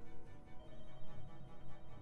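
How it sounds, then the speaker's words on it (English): A telephone rings in The Walking Dead: Michonne video game, a steady electronic ring running the full length against a dense, busy game soundscape. "That's a phone."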